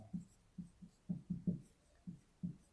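A pen scratches across paper in short, separate strokes, about eight quiet, evenly spaced scrapes set against a near-silent background.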